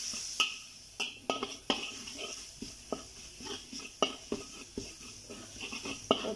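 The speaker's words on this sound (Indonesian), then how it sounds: "Kita goreng bumbu ini sampai dia berwarna sedikit kecoklatan ya." Indonesian spice paste (bumbu) fries in a pan for a vegetable spring roll filling, with a faint sizzle under repeated scraping and knocking strokes of a utensil against the pan at an uneven, unhurried rhythm.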